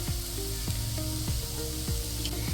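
Milky mushroom roast masala frying in a pan on a low flame, a dense constant sizzle with a few soft spoon scrapes recurring at a slow, steady rhythm.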